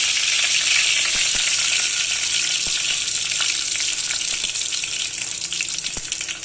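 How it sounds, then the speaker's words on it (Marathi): Cumin and mustard seeds fry in hot oil in a pan, a loud steady sizzle with a dense hiss and scattered sharp pops and crackles from the seeds throughout, close by with no speech. "इकडं तेलकापट ठेवलेलं आहे त्याच्यामध्ये जिरी मोहरी टाकून घेऊया"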